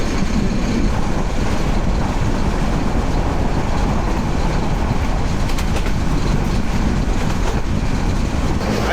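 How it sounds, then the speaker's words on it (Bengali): A passenger train in Bangladesh runs at high speed, giving a loud, dense, unbroken rushing roar of wheels and wind, with faint rattles throughout. "আজকে ট্রেনের স্পিড অনেক"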